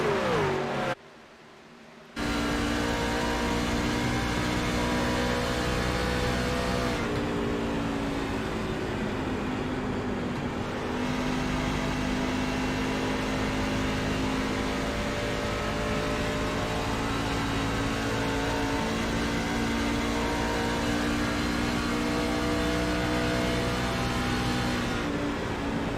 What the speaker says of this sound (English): Truck sounds healthy, sounds like he's hammered down